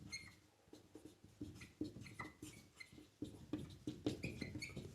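Chalk or marker writing on a board during a maths lesson, with continuous scratchy strokes and taps in short bursts, close and fairly quiet.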